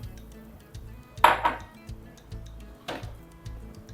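Soaked chickpeas tip into a cooking pot in two bursts, a loud rattling clatter followed by a shorter, softer one, with faint metallic clinks against a low kitchen background.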